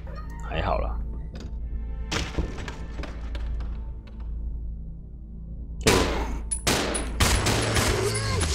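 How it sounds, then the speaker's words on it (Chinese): Rapid gunfire in Resident Evil 0 arrives in sharp clustered bursts separated by quieter gaps, with someone talking over the game sounds. "哦，开枪速度变好快了。"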